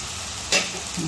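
Ground coriander, cumin and homemade black masala sauté in a pan for green pea rice, a soft steady sizzle with a brief louder scrape of stirring midway.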